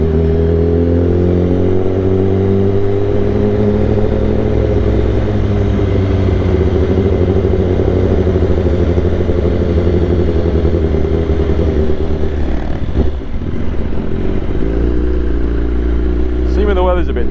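A BMW S1000RR motorcycle engine drones steadily while riding on damp roads, a loud continuous low harmonic hum with slight pitch shifts and a brief dip near the end, with wind noise over it.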